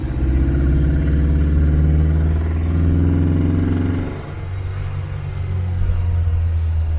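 A Mercedes W110 sedan engine pulls in third gear with a steady, loud low rumble and mechanical clatter. Midway the engine note drops and shifts as the car keeps moving, with no talk over it.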